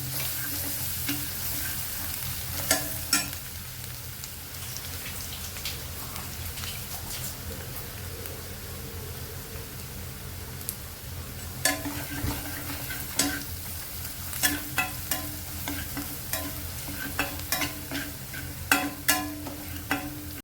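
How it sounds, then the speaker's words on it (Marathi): Ginger and green chili sauté in oil in a pan, a steady soft sizzle and frying crackle with scattered sharp clicks and scrapes of stirring, fairly quiet and close, with no talk. "यामध्ये आलं मिरचीची सुद्धा घालणार आहे सुद्धा परतून घे चांगली"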